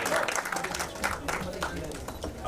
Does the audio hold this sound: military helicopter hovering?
no